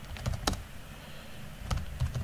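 Keys clatter on a computer keyboard during file editing, a few separate close taps spread across a quiet stretch.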